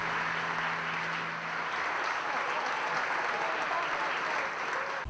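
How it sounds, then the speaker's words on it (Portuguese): An audience applauds after a tribute, with a continuous wash of clapping at moderate volume. A faint low hum sits underneath at first, then fades out. "Resta somente o nosso aplauso"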